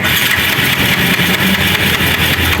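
A Honda Rouser 180 motorcycle engine that won't start sputters and pops close by, a loud, rough, uneven chugging with irregular bursts and no steady idle.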